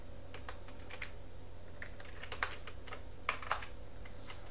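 Computer keyboard typing, a light irregular patter of key presses with a few louder taps, close and alone over a steady background hum.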